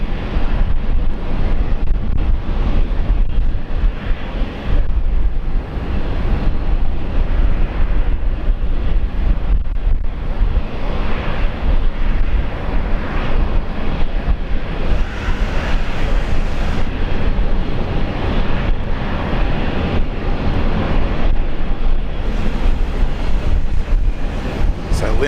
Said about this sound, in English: the Hercules coming in on 19 left, coming in from Port Moresby